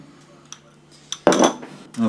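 Cutlery clinks against plates as potatoes are served, a short burst of metallic scraping and clatter close by after a few faint taps, with no talk.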